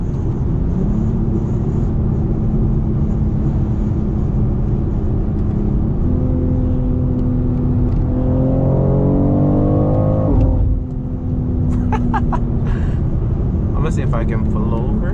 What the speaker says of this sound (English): the shift sound is insane. It echoes in the car.